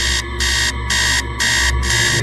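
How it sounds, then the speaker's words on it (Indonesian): An alarm clock rings in five evenly spaced, loud electronic bursts, each a bright buzzing tone that switches on and off in a steady rhythm, with a low hum continuing underneath. "Your alarm clock should wake you up now."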